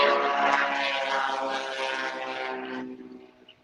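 A propeller aircraft flies past during the Lake Hood flyby in Alaska, its steady droning engine fairly close and loud before fading away over the last second.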